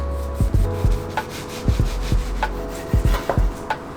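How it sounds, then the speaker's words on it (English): A knife cuts the crust off a chicken avocado sandwich in a series of short, close sawing and crunching strokes, about a dozen scrapes in uneven bursts with no talking. "So we're gonna start by slicing the sides, the crust,"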